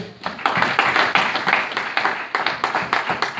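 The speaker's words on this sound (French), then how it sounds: "Acclamons pour la gloire de Dieu" A church congregation clapping together in a dense, loud, rhythmic burst of many hands that holds steady for the whole stretch, with no talking over it.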